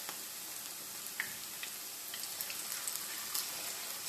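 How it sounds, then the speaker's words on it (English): Vegan Jamaican callaloo fritters fry in oil in a pan, a faint, even sizzling hiss flecked with occasional small pops that runs throughout without speech. "I'm gonna allow that to fry guys for about 3 to 4 minutes on one side before I flip them on the other side"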